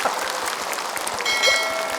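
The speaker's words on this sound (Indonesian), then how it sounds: "Sekarang tepuk tangan." A live religious gathering's audience claps together in a steady, moderately loud burst of applause that lasts throughout, with no talking over it.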